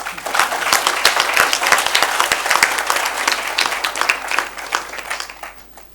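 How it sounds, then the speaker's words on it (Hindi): A large crowd in a university hall claps loudly for itself, a dense sustained roar of hands with scattered sharp claps standing out, easing slightly toward the end. "एक बार अपने लिए जोर से ताली बजा दी"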